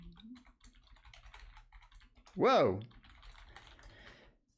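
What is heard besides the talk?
typing on a computer keyboard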